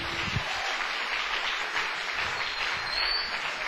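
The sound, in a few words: applause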